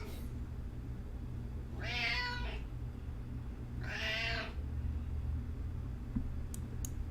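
A house cat meows twice, two clear drawn-out calls a couple of seconds apart, fairly close over a steady low background hum.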